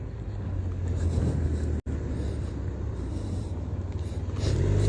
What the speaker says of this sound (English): A lot of traffic we have to pass through.